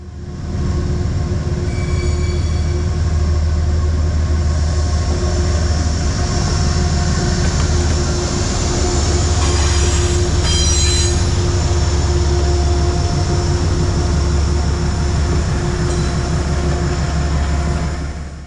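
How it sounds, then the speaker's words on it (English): Metro-North Train 1882, led by GE locomotive MTA 225, trundles eastbound off Track 3 onto the Danbury branch near South Norwalk, a loud unbroken rumble with a droning engine hum and faint wheel squeal throughout. "Metro North Train 1882 trundles past eastbound at the outer fringes of the light, switching off Track 3 to the Danbury branch with MTA 225 leading"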